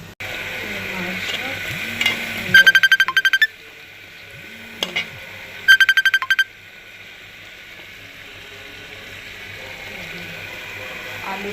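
Meat being stir-fried (kosha) in a pan, with a steady sizzle broken by bursts of rapid scraping and stirring strokes, close and fairly loud.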